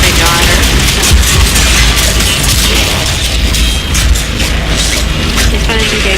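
Continuous heavy booming and crashing from Warframe combat, dense and loud throughout, with a voice talking over the din.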